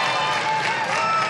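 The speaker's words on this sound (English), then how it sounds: "Oh, a lively crowd here today in our studio audience." Studio audience on the game show Classic Concentration applauding, a dense, steady wash of clapping and crowd noise with no gaps.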